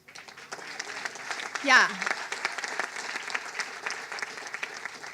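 Audience applause at a Los Angeles Clippers press conference, a steady wash of clapping filling the room with a brief cheer rising midway, voices mixed in throughout.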